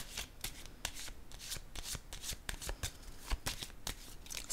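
Tarot cards are shuffled and handled at close range with quick papery riffles and soft slaps as cards are laid down on a table, a rapid uneven run of crisp card sounds with no talking.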